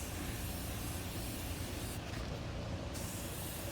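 Spray paint hissing from a can onto a rusty Minn Kota trolling motor during a repaint, a continuous close broadband hiss that holds steady throughout with a brief dip in its brightness partway through.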